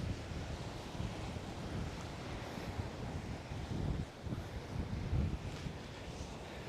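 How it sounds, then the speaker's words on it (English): Strong wind gusts across Coney Island beach, buffeting the microphone in low rumbling surges that swell near 4 and 5 seconds, with faint surf underneath and no talk. "Wow, it's so windy out here."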